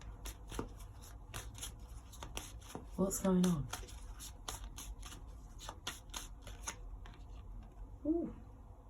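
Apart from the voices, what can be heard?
shuffling tarot cards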